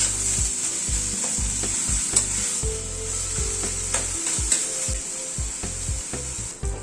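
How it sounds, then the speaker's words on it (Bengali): Cabbage sautéed in a kadai over a medium gas flame with salt, a constant oil sizzle with repeated scraping strokes of a spatula against the pan, close and fairly loud, no voices. "গ্যাসের ফ্লেমটাকে মিডিয়ামে রেখে বাঁধাকপিটাকে ভালো করে কষিয়ে নেব।"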